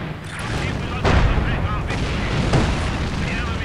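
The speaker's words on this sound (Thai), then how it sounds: "ระเบิดนาปาพวกนี้ไม่ช่วยเลยมากเลยนะฮะแต่นะก็เคลียร์พวกศัตรูได้" Napalm bomb explosions in the Company of Heroes 2 video game: two heavy booming bursts stand out over a continuous loud rumble of battle noise, with a voice faintly present.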